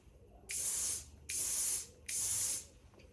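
A fuel injector nozzle from a Triumph Tiger 1050 motorcycle, removed from the throttle body on a bench, fires three separate bursts of fine hissing spray, each lasting about half a second with short gaps between, close and fairly loud.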